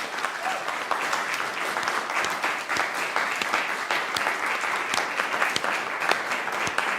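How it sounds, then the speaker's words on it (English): An audience gives a warm, steady round of applause for young music scholars after a masterclass, with dense clapping that holds evenly throughout. "Let's give them a big round of applause."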